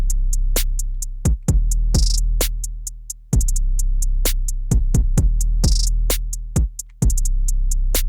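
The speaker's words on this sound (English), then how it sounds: "The kick pattern bounces between the 808 and the snare pretty well, so it sounds like this." Sparse drum beat with an 808 kick bouncing against a snare, deep booming kicks with long pitch-dropping tails alternating with sharp snare hits in a steady, loud, uncluttered pattern.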